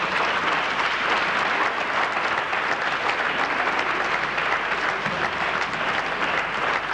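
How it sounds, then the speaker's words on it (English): Sustained applause from a large audience at a 1996 young people's art competition awards ceremony in France, a loud, dense, even roar of clapping that continues unbroken throughout. "please let's give a big round of applause"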